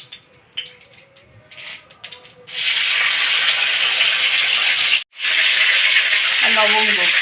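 Spices fry in hot mustard oil for masala butter bhindi. After a few quiet, faint kitchen noises, a loud, steady sizzle starts, cuts out for a moment, then comes back strong and continuous.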